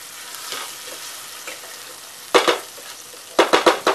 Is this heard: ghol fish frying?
yes